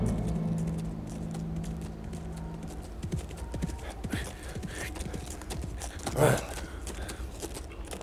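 Horse hooves clip-clop steadily as a horse is ridden through the outdoors in a historical drama, a brisk repeating rhythm at mid distance, with a brief voice or snort breaking in near the end.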